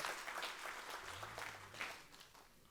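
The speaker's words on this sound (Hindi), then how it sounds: "जोरदार तालियां" An audience at a Rajasthan teachers' association event claps to welcome MLA Subhash Meel from Khandela; a few seconds of scattered, moderately quiet clapping with a low hum underneath, tapering off toward the end.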